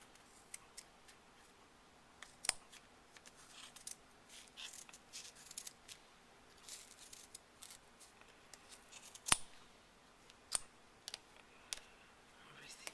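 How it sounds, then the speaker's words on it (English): Sharp scissors snipping yarn strands while making a slouchy hat, quiet scattered crisp clicks and snips, a few louder cuts, in a calm room. "That's what a sharp pair of scissors does for you."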